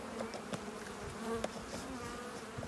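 Honey bees in a bowl, set aside during an alcohol wash for varroa mite monitoring, make a faint, continuous buzzing hum with scattered clicks and small knocks.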